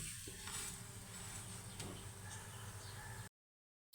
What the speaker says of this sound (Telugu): అంచుల వెంట కొద్దిగా ఆయిల్ వేసుకొని కాల్చుకోండి